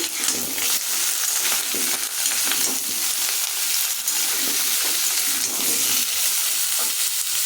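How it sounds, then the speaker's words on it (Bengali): Potatoes, pointed gourd and chopped onion sizzle and crackle steadily in hot oil, a constant bright frying hiss with occasional stirring, no voices. "আলু পটল দিয়ে দিয়েছি তার সাথে পেঁয়াজ কুচিয়ে ফোড়নের মধ্যে দিয়েছি দিয়ে এবার ভাজা ভাজা করছি"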